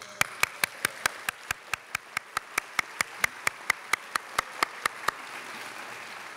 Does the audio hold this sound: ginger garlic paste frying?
no